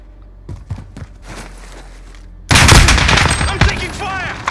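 Loud burst of automatic gunfire in Call of Duty: Modern Warfare, dense rapid shots erupting after quieter scattered pops and footsteps, close and sustained to the end.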